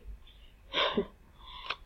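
A single person sneezes nearby, a short breathy burst in a quiet room, followed by a fainter sharp exhale or second snort.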